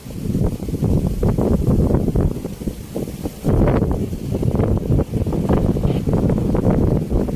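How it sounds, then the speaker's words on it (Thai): Strong wind buffets the microphone at a natural bottom-fishing spot, a loud continuous roar with gusty surges and a brief lull near the middle before it resumes just as hard, with no speech over it. "นี้ลมแรงไปหน่อยนะครับ"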